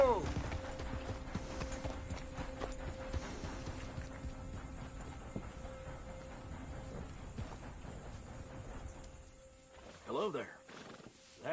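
A horse's hooves clip-clop at a steady walk in the Red Dead Redemption 2 video game, soft and fairly close, with a whinny near the end.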